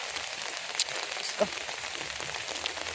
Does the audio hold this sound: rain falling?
yes